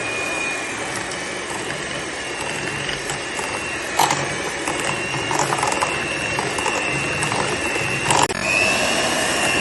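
An electric mixer whirs steadily as it beats butter, banana and powdered sugar for a banana walnut cake batter, a continuous close mechanical drone with a couple of brief louder knocks.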